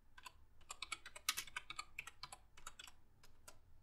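Rapid clicking of a computer keyboard while entering a search on YouTube, a dense burst of close, fairly quiet keystrokes with brief pauses, no voices.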